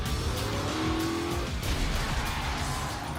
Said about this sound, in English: We're gonna pull this car in here at about 50 miles an hour, so it'll look like a very violent wreck.